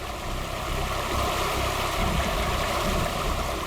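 Waterfall pouring steadily nearby, a dense, constant broadband rush of falling water at close range with no break, and no voices heard over it.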